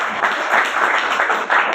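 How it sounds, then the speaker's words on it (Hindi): Steady audience clapping at an organic-products talk, dense and fairly loud throughout the short burst with no speech over it. "तालियां मार दो यार"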